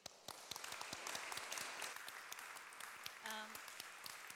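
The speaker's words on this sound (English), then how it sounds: "A big applause." An audience applauds after a talk on engaging with society, a dense wash of many hands clapping that holds steady throughout, with a short tonal blip near the end.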